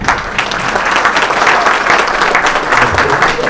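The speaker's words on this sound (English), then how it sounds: "I think we will not be miser on the claps." A crowd at an air cargo industry inaugural event applauds loudly, its many hands clapping in a dense, sustained roar close to the listener with no break.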